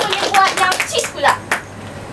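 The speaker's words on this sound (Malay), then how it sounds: "Okey, berikan tepukan." In a classroom, pupils give a short burst of clapping for a classmate, several quick claps over about two seconds, with children's voices mixed in.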